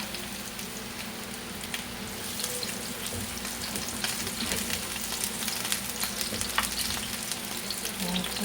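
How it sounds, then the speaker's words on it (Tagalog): Chicken frying in heated cooking oil gives a continuous busy sizzle with crackles and pops, steady and fairly close throughout, with faint clinks of stirring. "Ayan, nagpainit na ako ng mantika."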